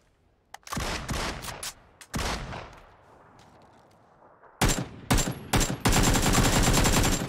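Bursts of video game gunfire as headshots are fired into a downed player in PUBG: sharp close shots in several clusters separated by quieter gaps, ending in a dense, loud volley.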